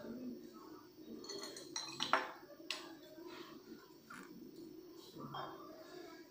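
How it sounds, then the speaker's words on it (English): A plate is set down on a surface to start a classroom-style candle and water science experiment. It gives a couple of soft, brief clinks in a quiet room with faint background sounds. "First we should take a plate and then we should add some water."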